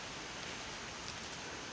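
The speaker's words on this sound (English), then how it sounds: "Raining, boys." Steady, dense hiss of rain falling all around in woods, even and unbroken, with no voices.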